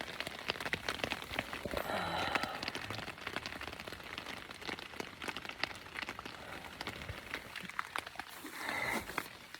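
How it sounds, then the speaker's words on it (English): Steady rain falls outside a backpacking tent, a dense continuous patter of drops at even loudness for the whole stretch, with scattered sharper taps against the fabric and no voices. "As you can hear, raining outside."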